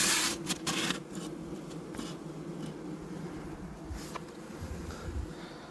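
Honey bees hum steadily inside an opened hive in early November as a feed cake is laid across the middle and a divider board is placed, with a continuous low buzz and a few soft knocks and rubs near the start.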